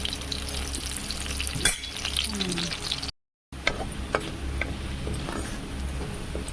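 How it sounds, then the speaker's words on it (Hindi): Onions frying in a pan for an egg and potato curry make a steady, close sizzle with occasional stirring scrapes and a brief silent gap partway through. "प्याज को लाल कर दीजिए"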